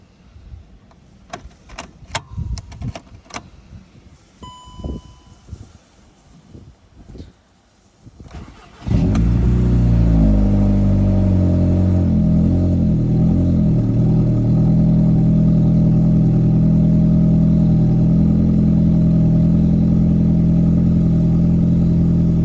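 Audi 2.0 TFSI EA113 engine with its balance shafts removed, first some keys jangling and clicks, then a loud crank and start, settling into a steady idle that runs on to the end.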